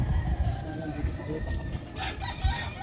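Imported Gary Gilliam gamefowl rooster crowing and clucking amid a noisy outdoor farm yard, its calls short and mid-distance over steady background din and scattered voices.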